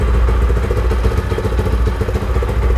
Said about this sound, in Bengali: সাউন্ডটা শুনতে পাচ্ছেন কতটা লাউড। আর এটার নাম হচ্ছে স্পিডার মনস্টার 165।